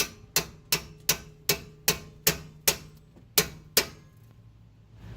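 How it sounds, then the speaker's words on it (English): A hammer raps on a box-end wrench fitted over a rear brake bolt of an Infiniti JX35/QX60, about ten sharp metallic taps in a steady rhythm, close and clear with no talking. "Make sure you can get your hammer there. Just give it a few taps."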